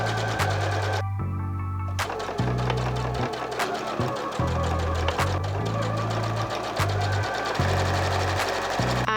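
A sewing machine top-stitches down the side of a quilted zipper bag in bursts of rapid needle hammering, stopping and restarting several times, close and loud with no talk.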